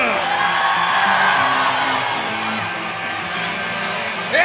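A concert crowd in Milan yells and cheers loudly, a dense roar of whoops and shouts that holds steady and swells again at the end.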